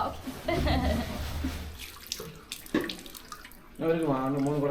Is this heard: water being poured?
yes